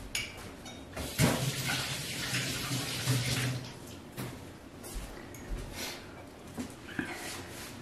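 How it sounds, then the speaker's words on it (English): Water runs steadily from a kitchen tap during hand washing, a close continuous splashing stream with a few small knocks and clatters. "I'm gonna wash my hands again."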